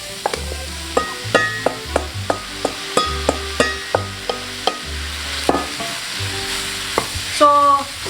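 Chicken frying in a pan for japchae, a loud, close sizzle punctuated by a steady rhythm of sharp spatula clacks and scrapes against the pan, with no talking.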